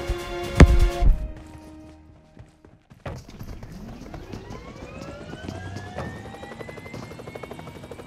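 Aircraft in a video game, a helicopter-like rotor drone with a rising engine whine that climbs steadily in pitch, preceded by a few loud thumping impacts, continuous and fairly close.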